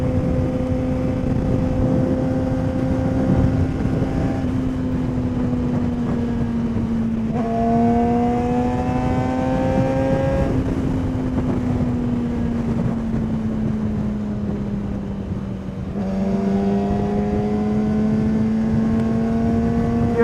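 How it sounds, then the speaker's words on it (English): Wind roars steadily past a helmet on a supersport streetbike, with the engine's humming drone rising and falling through gear changes underneath, and no talk. "I am going to need to invest in a helmet that isn't so incredibly loud when it comes to wind noise"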